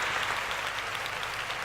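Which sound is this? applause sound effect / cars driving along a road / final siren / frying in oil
applause sound effect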